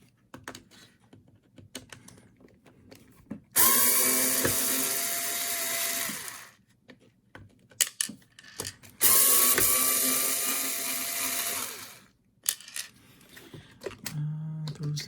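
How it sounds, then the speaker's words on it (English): Screws being backed out of the diff cover on a Tamiya TT-02RR radio-controlled car with a power driver, two long, loud whirring bursts with small ratcheting clicks and handling noises between them, close up and without talk. "Okay, I see the same screws. Let me take these two off on top first."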